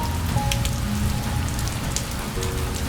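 Steady rain pours outside a train passing through a Japanese bamboo forest, a dense, even patter on the surface that holds at a constant level with no voices and a faint hum beneath.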